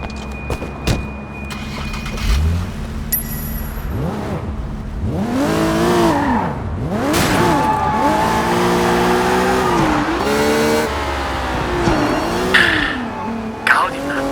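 A car in the video game Sleeping Dogs revs through repeated swooping engine pitch rises and falls, with loud tire skids and squeals throughout, and voices briefly talking over it.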